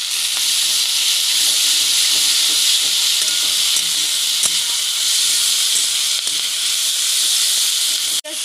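Garlic paste hits a frying pan of onions in oil and sizzles loudly, a dense, steady hiss held close for several seconds before it abruptly drops off at the end.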